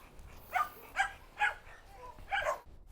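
A watchful guard dog barks five times in a steady, evenly spaced series, clear and moderately near, with no talk.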